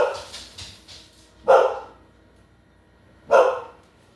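A pet dog barks indoors in a home kitchen while a chicken pot pie is being cooked, giving a few soft yips before two loud, sharp single barks spaced about two seconds apart, with no talking.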